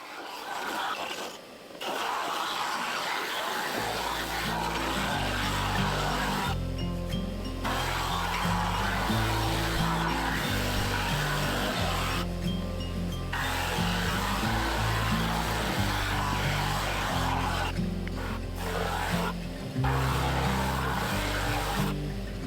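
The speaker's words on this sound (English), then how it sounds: "it was over to the drum sander to flatten them all" A drum sander flattens turned wooden rings for a patterned vase, its loud steady whine broken by several pitch shifts and brief dips as each ring is fed through.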